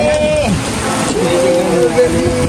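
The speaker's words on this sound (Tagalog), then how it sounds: "Malakas ang ulan." Dense, steady rain pours down with a constant hiss and patter, loud and close, with faint voices in the background.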